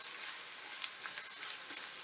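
A soft, continuous sizzle of food frying in oil in a pan for Colombian arroz con pollo, faint and steady with a few small pops and no talk.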